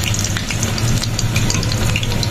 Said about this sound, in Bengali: তো ভেজে নিয়ে আমি সব এভাবে একে একে তারপরে আসছি।